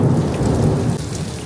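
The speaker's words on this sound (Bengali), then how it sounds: "বিদ্যুৎ চমকাইতেছে।" Heavy rain pours down steadily during a thunderstorm, with deep rumbles of thunder rolling underneath. The downpour stays loud and dense throughout, with no voices.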